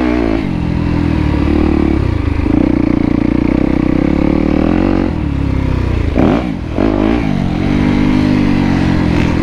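Yamaha YZ250X two-stroke dirt bike ridden on a wooded motocross track, loud and close, with its engine revving up and down, a sharp throttle blip and dip near the end.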